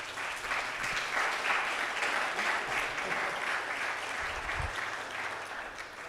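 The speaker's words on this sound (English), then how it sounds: "if we can have a round of applause for them" A seated audience at an academic roundtable session gives a sustained round of applause, dense and even throughout, easing off slightly toward the end.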